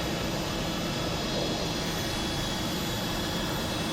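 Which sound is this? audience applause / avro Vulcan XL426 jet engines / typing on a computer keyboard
avro Vulcan XL426 jet engines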